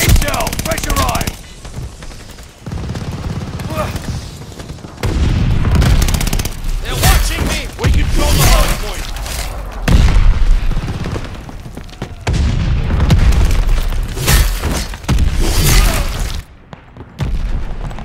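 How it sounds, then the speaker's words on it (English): Heavy explosions and bursts of gunfire from a mortar barrage in the Call of Duty: Vanguard Hardpoint match on the USS Texas 1945 map, with loud repeated booms that come in clusters and game voices heard between them. "Allies calling a mortar barrage!"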